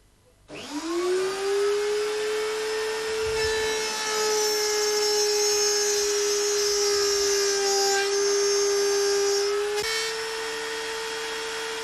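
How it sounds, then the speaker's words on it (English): A router spins up with a rising whine and cuts a slot in a wooden faceboard for a routing jig, holding a loud, steady high-pitched scream with grinding texture before winding down, close and without speech. "Then cut a second slot in the faceboard."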